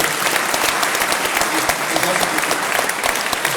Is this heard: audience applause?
yes